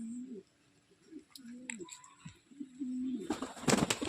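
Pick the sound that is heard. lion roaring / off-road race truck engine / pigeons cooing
pigeons cooing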